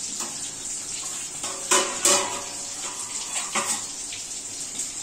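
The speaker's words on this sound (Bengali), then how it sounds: "এই পোস্তর বাটিটা ধুয়ে একটু জল দিয়ে দিলাম, গরম জল।" Hot water runs from a tap into a bowl used for poppy-seed paste as it is washed, a steady close splashing with a few sharper clatters of the bowl in the middle.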